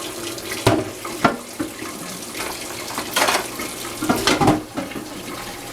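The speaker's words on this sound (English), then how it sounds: "So now put some water in here." Tap water running into a pot for boiling garden beet greens in a kitchen, a close, steady splashing stream with several louder gushing surges as the flow shifts.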